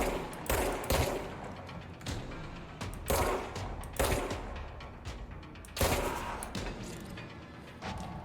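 Bursts of gunfire from the supernatural shooter game Control, several volleys of sharp rapid shots at irregular intervals, loud and close, with no talking.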